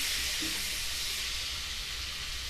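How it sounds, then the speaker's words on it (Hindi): Cumin sizzling in hot butter, a steady close hiss and crackle that stays even throughout, with no voices. "इसमें हम 1 चम्मच जीरा डालेंगे, तो हम मिला देंगे।"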